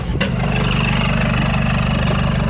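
A John Deere 5095M diesel tractor engine idling with a steady low, throbbing rumble, loud and close, running evenly throughout.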